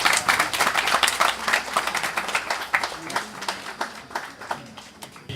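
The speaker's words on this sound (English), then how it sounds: "please give her a round of applause." Audience applause for a woman's 80th birthday celebration: dense, sustained clapping from a room of guests, loud at first and gradually thinning toward the end, with no voices standing out.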